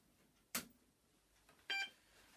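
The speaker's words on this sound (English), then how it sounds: "There's a beep." A DEC VT100 terminal powering up gives two short, faint electronic beeps about a second apart, the second slightly longer, in an otherwise quiet room.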